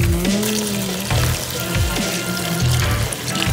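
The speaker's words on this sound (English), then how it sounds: "now we're gonna add some water." Water poured onto dry ice sets off a loud, steady bubbling and gurgling with sizzling fizz throughout, rising in low rhythmic surges about once a second.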